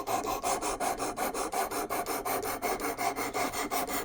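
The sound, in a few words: sharpening Demko SharkCub knife blade on a sharpener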